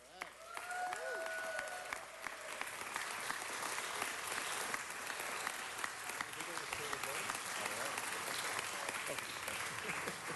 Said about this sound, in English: Let's hear it again for the Los Angeles Gay Men's Chorus.